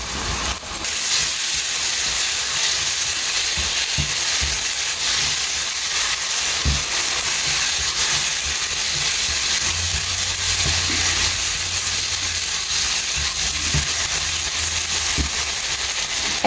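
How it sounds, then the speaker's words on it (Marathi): Powdered masala frying with onions in a pan for dal, a soft, steady sizzling hiss that runs through the whole clip, with a few faint knocks underneath. "हे पावडर्ड मसाला हांवें भाजून घेयलाय विथ ऑनियन्स"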